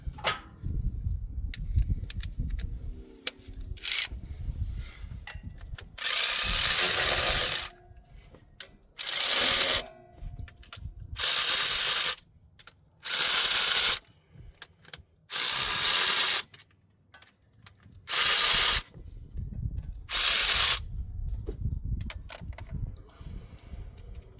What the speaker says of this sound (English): I'm going to go ahead and get my ratchet and I'm going to tighten them down a little bit more